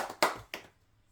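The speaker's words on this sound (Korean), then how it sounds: "하나님께 영광의 박수를 올리도록 하겠습니다" A church congregation at a Sunday Thanksgiving worship service claps during the sermon, two sharp, close bursts in quick succession before falling quiet.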